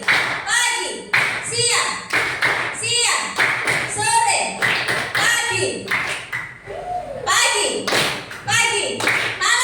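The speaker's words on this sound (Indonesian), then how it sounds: "tepuk tangan untuk kita semuanya" A class claps in rhythmic patterned bursts, sharp and close, between call-and-response lines spoken by a teacher and children.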